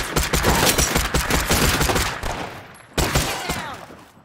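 Rapid automatic gunfire in the video game State of Decay 2, a dense stream of cracking shots that thins out, then a fresh loud burst near the end.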